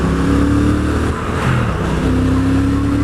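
A Triumph Thruxton RS motorcycle rides along with a loud engine drone, dipping briefly during a clumsy gear change made without a quick shifter, then climbing again under strong wind noise.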